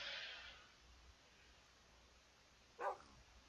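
A single short dog bark from a tamed wolf in the Minecraft video game, faint and brief, following a soft hiss at the start amid otherwise quiet game sound.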